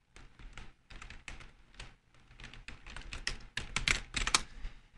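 Rapid keystrokes on a computer keyboard click in close, uneven bursts with short pauses, getting busier and louder toward the end.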